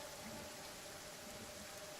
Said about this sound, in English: I hope that's not acid rain.